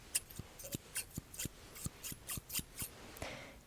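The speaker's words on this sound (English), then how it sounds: "how many times do you hear me snip?" Close, crisp snips of scissors or thinning shears, about a dozen quick metallic cuts in an even rhythm, quiet and intimate with no talking.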